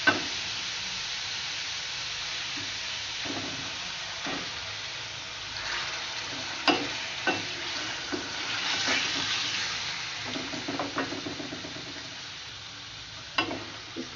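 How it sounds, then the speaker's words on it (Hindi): Chicken pieces frying in a karahi give a steady, moderate sizzle throughout, broken by scattered scraping clicks of stirring, with no voices. "अब इसमें मैं अपनी चिकन डाल दूँगी।"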